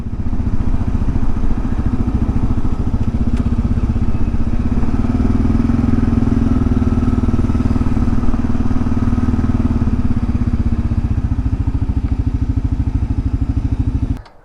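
A motorcycle rides steadily at close range with a loud, continuous engine drone and wind rush, the tone swelling slightly midway before cutting off abruptly at the end on arrival at a lake campground.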